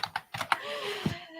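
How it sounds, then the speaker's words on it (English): Clicks and taps of typing on a computer keyboard, a fast uneven run of keystrokes nearby followed by a softer stretch with a faint tonal hum in the background. "Typing is fun."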